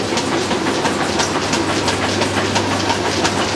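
A Whirlpool or Maytag washing machine running with an 850 RPM spin, giving a steady rumbling drone with a low hum and a rhythmic clatter repeating throughout, loud and close with no voices.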